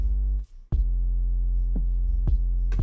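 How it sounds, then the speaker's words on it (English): A steady, loud synthesizer tone shifts quickly between a sine wave and a triangle wave, broken by a few short clicks and a brief dropout. "It's just doing this, changing from a sine wave to a triangle a little bit, but really fast like that."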